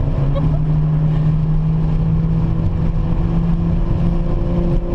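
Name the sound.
Nissan GTR car engine driving on track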